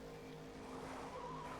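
Tires squeal as a car brakes hard and skids in a Disney Pixar Cars racing game, a short, steady screech over engine drone.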